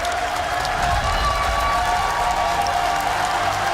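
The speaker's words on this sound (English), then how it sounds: "as the crowd pays their appreciation to every player on this stage and every team" A large live crowd at an Apex Legends esports playoff final applauds and cheers steadily, a dense continuous roar of clapping filling the arena with no voices on top.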